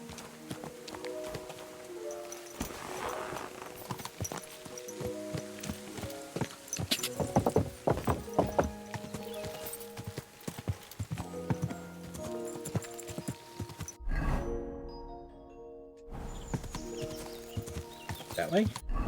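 Horse hooves clip-clop in steady rhythm in a fantasy video game about dice, horses and swords, with game music and someone talking over the hoofbeats.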